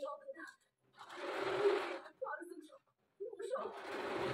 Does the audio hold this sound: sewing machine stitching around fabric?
yes